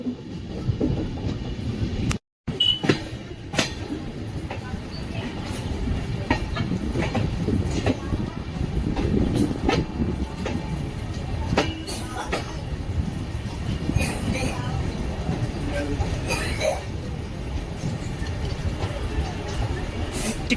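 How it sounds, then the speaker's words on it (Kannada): The weekly Chikkamagaluru–Tirupati express train rumbles into a station with rhythmic clatter of wheels over rail joints, loud and close, with a brief dropout near the start and faint talk in the background. "Chikmagalur Tirupati weekly express ಬಂದೈತ್ರಿ"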